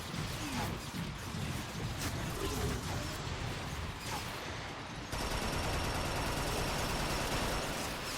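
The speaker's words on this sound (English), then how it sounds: "they will not stop shooting at me" Gunfire from the Transformers: Fall of Cybertron video game, a dense, loud barrage of shots and crashing impacts that never lets up, turning harsher and more constant halfway through.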